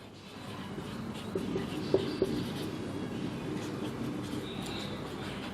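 A formula for an integration lesson is written out, giving faint, soft scratching with a few light taps over a steady low room hum.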